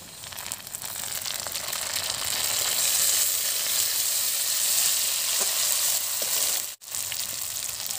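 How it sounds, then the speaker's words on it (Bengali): Chopped onions and chillies sizzle and crackle steadily in a hot pan, a close, continuous frying hiss that briefly drops out near the end. "পেঁয়াজ কুচি দিয়ে দিলাম, দিয়ে এবার ভালো করে একটু ভেজে নেব"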